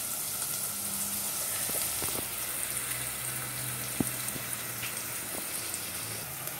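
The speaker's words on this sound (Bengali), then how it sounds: "এই যে আমার পেঁয়াজটা ভাজা হচ্ছে" Chopped onions frying in a pan for a shrimp and potato dish in tomato sauce, giving a steady close sizzle and crackle with an occasional sharp pop, and no talking.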